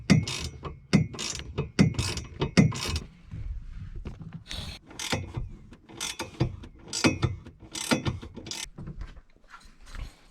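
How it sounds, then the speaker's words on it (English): Ratchet wrench undoing rear strut bolts on a car, clicking in rapid bursts of repeated pawl ticks with short pauses between strokes, close and fairly loud, alone without talk. "Time to undo these rear struts. Ratchet wrenches are your friend for getting in here"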